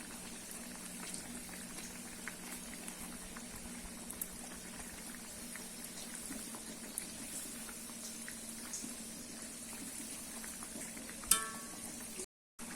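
Drumstick-leaf dal vadas deep-fry in oil over a medium flame, giving a steady, soft bubbling sizzle with faint crackles throughout and no talking.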